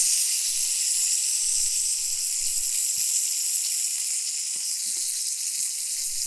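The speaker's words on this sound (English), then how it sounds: "I'm going to flip it just real quick to get a bit more brown on the original side" A steak sizzles loudly in a BLACK STAR iron pan, a steady dense hiss of frying fat running unbroken and close up, with a few faint clicks and no voices.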